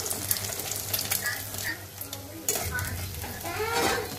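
Eggs and onion being fried and stirred into a scramble, with a crackling sizzle and repeated scraping of a spatula against the pan, close and clear, with no voices heard.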